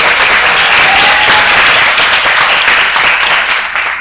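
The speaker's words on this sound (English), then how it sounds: "let's give the graduates another round of applause." Graduates at a cohort graduation ceremony receive another round of applause, loud, close and continuous clapping from the audience that holds steady, easing slightly near the end.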